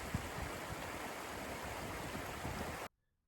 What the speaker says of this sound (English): the water flowing beneath your feet